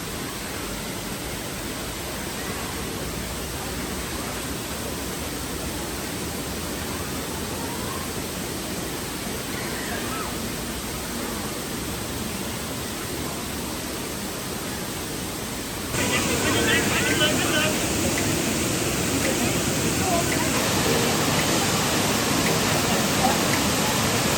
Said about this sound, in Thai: น้ำตกทานทอง อำเภอสังคมจังหวัดหนองคาย สวยเย็นสบาย